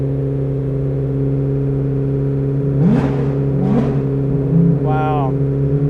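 A new Chevrolet Corvette ZR1 engine, set to touring mode, drones steadily up close and swells in two short revving surges, with brief voices speaking over it.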